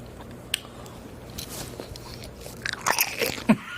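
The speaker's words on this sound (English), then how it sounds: "got kind of a pickly crunch" Crunchy pickled okra being bitten and chewed close up, a few soft wet crunches that build into juicy, squishy bites near the end, with no talking over them.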